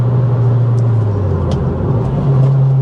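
Ford Fiesta ST Mk5 ST150 engine pulling steadily from low revs through third gear on winding switchback roads, a continuous droning hum that rises slightly in pitch toward the end, heard from inside the cabin.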